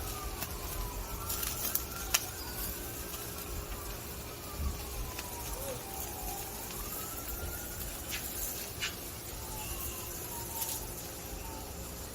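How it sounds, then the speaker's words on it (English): Faint wailing sirens rise and fall in the distance over a steady background hum, with a few soft clicks and knocks nearby. "They even had the sirens in the background."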